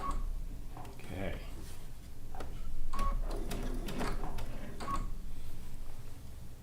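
A sewing machine stitches over quilt fabric in short bursts between pauses, with a voice talking throughout over the mechanical whir and clatter.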